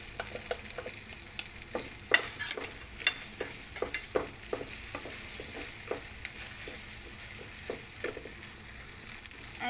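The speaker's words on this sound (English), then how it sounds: "We need this ginger garlic paste as well. Just saute for a few seconds." Ginger garlic paste sautés in a pan for rajma masala, a soft sizzle under a regular run of spoon scrapes and taps repeating about every half second, fairly quiet and close.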